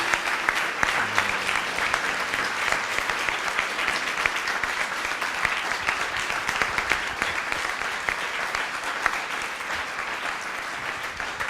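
A crowd applauds steadily after a lecture, dense even clapping continuing at moderate level for the whole stretch without a break.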